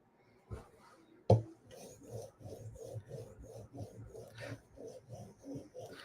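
A Hinderer knife blade drawn across a 2000 grit stone on a Hapstone RS sharpener, a sharp knock followed by a regular series of soft rasping strokes, close and quiet.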